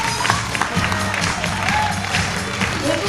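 A theatre audience applauds a dancer at a staged show, steady crowd clapping mixed with murmurs and a few cheers, continuous and moderately close throughout.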